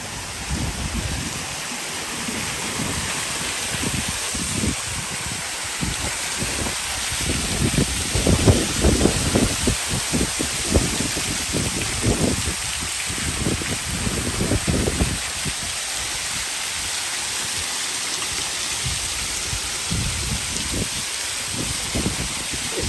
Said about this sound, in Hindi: ऐसा लग रहा है कि बहुत शदीद बारिश हो रही है।